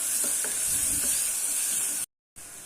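Onion and ground paste sauté in a pan for a potato and pea kurma, a steady close sizzle with a few stirring scrapes, broken by a brief dropout near the end.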